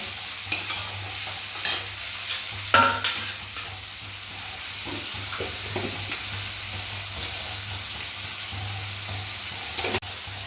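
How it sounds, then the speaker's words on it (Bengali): Tomato frying in oil in a pan with turmeric and salt, a steady close sizzle running throughout, broken by a few sharp spatula clicks and scrapes against the pan. "টমেটোটা তেলে যতক্ষণ না গলছে এটাকে এভাবে ভাজতে থাকবো"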